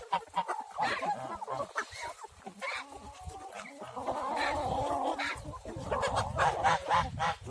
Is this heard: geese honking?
yes